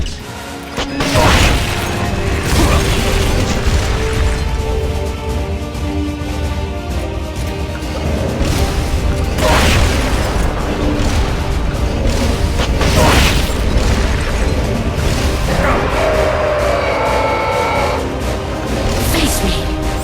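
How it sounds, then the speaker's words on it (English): In the Metal Gear Solid Peace Walker game, cluster bombs go off as several heavy booms spread across the stretch. The booms come with clanking mechanical noise and a constant low rumble. "Cluster bombs!"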